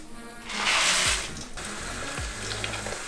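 Water from a tap or jug splashes onto 100 g of rolled oats for porridge, a bright rushing pour that swells, then eases into a quieter trickle with light clunks of the container.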